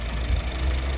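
A Honda engine idles quietly, a low, steady hum with a faint even vibration, close and unchanging, with no talking.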